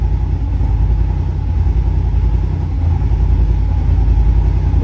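A Yamaha TDM900 engine running with a deep, loud, steady rumble, showing small dips as the quick shifter cuts the ignition, heard close and alone.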